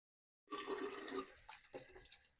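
Water splashes and trickles briefly and close by as face wash is rinsed off, starting after a short silence and breaking into a few separate splashes.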